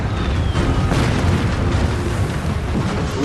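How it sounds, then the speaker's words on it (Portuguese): Naval cannon shells firing and exploding during a battleship engagement, a dense, continuous rumbling roar of booms and blasts with no clear pauses, loud and heavy. "Ouvimos os projéteis de canhão."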